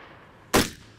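A single loud rifle shot at a shooting competition stage, a sharp close crack with a short decaying tail over quiet background.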